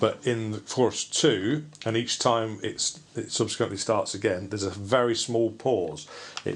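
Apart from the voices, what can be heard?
No everyday noise stands out behind the speech.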